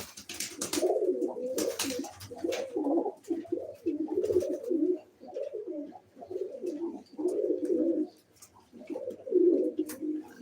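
Pigeons coo close by in repeated soft, throaty phrases, one after another with short pauses, against a quiet background.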